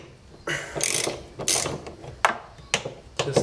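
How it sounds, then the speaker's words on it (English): A 3/8-inch socket ratchet loosens bolts on a Fisher and Paykel appliance, giving several close, loud bursts of ratcheting clicks in short irregular strokes with brief pauses between them. "So I used a socket set and a 3/8 socket to remove this."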